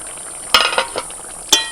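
Fish curry fries with mustard paste in a pan, a quiet sizzle under a few sharp metallic clinks and stirring knocks from a utensil, with no one speaking.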